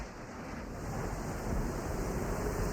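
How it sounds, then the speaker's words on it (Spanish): A nighttime mountain thunderstorm worsens as a continuous broad roar of wind and rain that slowly swells louder, with no distinct thunder cracks and no voices. "Mientras cae la noche, la tormenta empeora."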